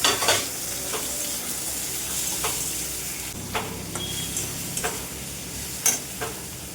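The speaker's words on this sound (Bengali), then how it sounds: "চিংড়ি মাছগুলো আলাদা ভেজে নেবো না, এর ভেতরেই দিয়ে দেবো।" Shrimp added to lightly fried onion sizzle loudly in a pan, with a continuous hiss and several sharp scrapes and clinks of a stirring spoon, close up with no voices.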